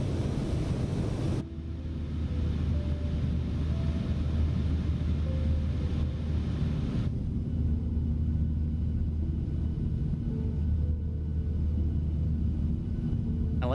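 Steady, loud jet engine drone from a PMDG 737-800 airliner in Microsoft Flight Simulator, heard from in front of the engine: a deep continuous rumble with a low tonal whine that shifts character partway through, with no talk.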